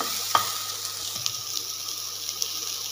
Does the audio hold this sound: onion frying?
yes